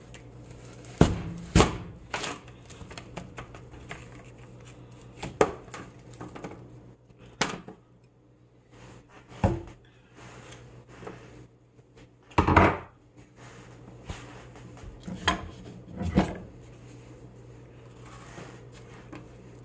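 Knife chopping through an apple on a cutting board while coring and slicing it, a series of irregular, fairly close thuds and taps spread through the stretch, with quiet kitchen handling between cuts.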